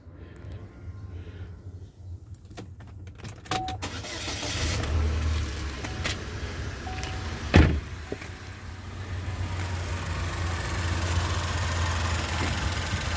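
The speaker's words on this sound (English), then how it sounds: "Let's crank it up." A 2011 Buick Regal with a 2.0 turbo engine cranks and fires up with a sharp burst near the middle, then settles into a steady, close idle hum.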